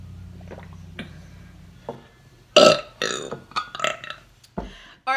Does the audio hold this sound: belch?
yes